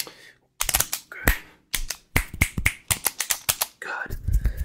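Close finger snapping in an ASMR session, a rapid irregular series of sharp crisp snaps in clusters with short pauses between, intimate and dry.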